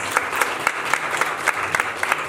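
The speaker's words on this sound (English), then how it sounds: "we should clap for this sentence" Applause from an audience at a school teachers' workshop, a scattered run of claps with uneven peaks for a couple of seconds, fairly distant and without voices.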